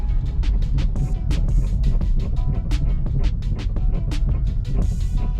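A car with something loose under the driver's side, a dense stream of sharp rattling clicks and knocks over a low rumble of the car driving, fairly loud and constant.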